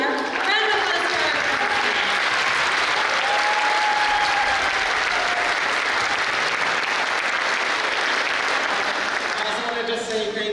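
Audience at a high school Latin music festival applauds with dense, sustained clapping that fills the whole stretch, with a few cheers or whistles rising above the steady roar.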